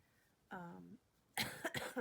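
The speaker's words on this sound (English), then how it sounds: "sorry, I keep coughing." A single voiced sound, then a sharp, harsh cough burst with a couple of quick follow-ups, close and fairly quiet.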